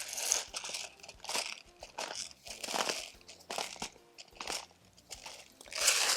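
Fresh black pepper being ground by hand over seasoned oven fries, a run of close, dry crunching and crackling bursts in an irregular rhythm with no talking.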